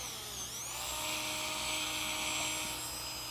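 Dental rotary wheel grinding a CEREC porcelain crown, giving a continuous high-pitched whine that rises at the start and holds steady and fairly loud.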